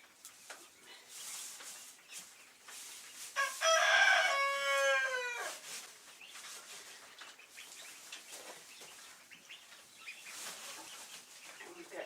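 Backyard chickens clucking softly with one rooster crowing loudly nearby, followed by scattered faint clucks and rustling.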